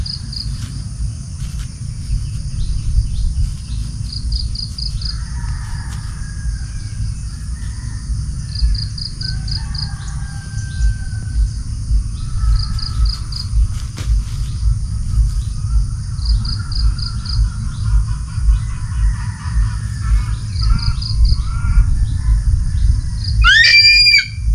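A pet bird calls in scattered chirps and short squawks over a constant high insect trill and a low background rumble.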